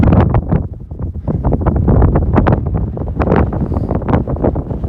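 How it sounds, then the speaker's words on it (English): Heavy wind on the summit of Big Bald on the Appalachian Trail buffets the microphone in loud, rumbling gusts, roaring continuously with no voices. "It's too windy."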